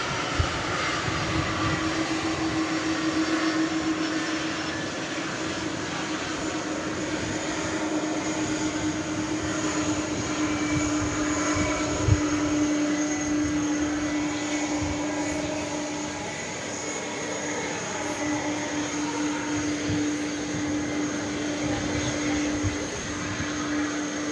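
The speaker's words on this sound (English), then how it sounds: "The MD-11 on a trajectory to take off on 18 left" An MD-11 airliner takes off from runway 18 Left at DFW Airport after dark, its engines producing a loud, steady jet roar that holds throughout, with a constant tonal whine running beneath the broadband rumble.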